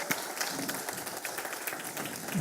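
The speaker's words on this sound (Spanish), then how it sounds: "Ay, ese aplauso si fuera más convincente." Brief, scattered applause from an audience during a spoken sermon, a moderate patter of hands clapping that runs evenly through the short moment.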